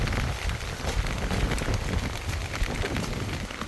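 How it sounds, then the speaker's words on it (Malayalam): Heavy monsoon rain pours steadily at a riverside home in Kerala as floodwater rises, a dense, close, continuous patter and rush on the surfaces around with no voices. "ഉടനെങ്ങും മഴ നിൽക്കുമെന്ന് തോന്നുന്നില്ല"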